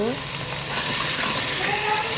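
Blended onion paste with garlic and ginger fries with spices in a pan, giving a loud, continuous close sizzle that holds steady throughout.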